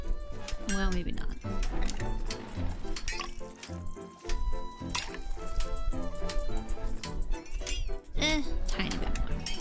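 Liquid drips and trickles while tea is poured in Wanderstop, a close, splashy fill with squishy bursts running under game music and voices.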